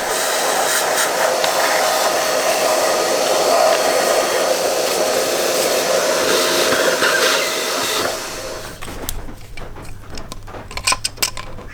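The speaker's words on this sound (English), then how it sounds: "nasty dried coolant which I'm going to try and extract with the vacuum cleaner" A vacuum cleaner sucks dried coolant out of the engine valley of a 2013 Porsche Cayenne 958 3.0 TDI V6 diesel, its loud steady roar running for several seconds before cutting off. Gritty rattles and clinks follow.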